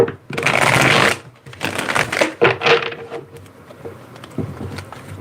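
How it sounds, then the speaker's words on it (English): Tarot cards are riffled and shuffled close up in several quick bursts, followed by softer handling and light taps of the deck. "Let me get 2 more shuffles here."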